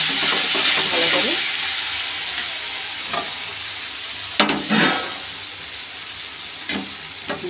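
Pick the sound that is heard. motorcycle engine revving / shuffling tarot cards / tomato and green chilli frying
tomato and green chilli frying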